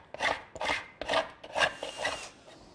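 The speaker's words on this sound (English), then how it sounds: "I'm going to scrape off the excess glue and sand it smooth." A glued-up wooden tabletop blank is worked with a scraper and sandpaper, making five or six rhythmic rasping strokes of about half a second each, close up and loud, with no speech.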